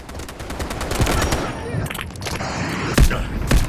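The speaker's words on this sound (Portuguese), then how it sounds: "começaram a atirar nele." Bursts of automatic gunfire and booming shots ring out in the mobile shooter game Delta Force Mobile, with rapid overlapping fire and a few heavy thumps.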